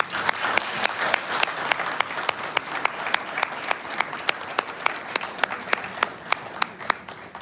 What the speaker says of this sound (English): Please, can we have another round of applause for Daily Parity, please?